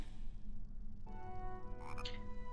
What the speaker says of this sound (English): I just hear another chocolate frog.